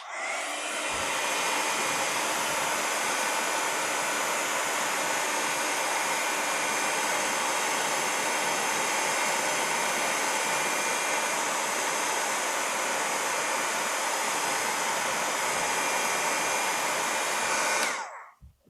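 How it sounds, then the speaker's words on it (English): A heat tool melts and heat-sets embossing powder on a chipboard card piece, giving a steady, loud, hair-dryer-like blowing roar that runs unbroken for about 17 seconds and then cuts off. "now let's heat set this and then we can take another look at the card"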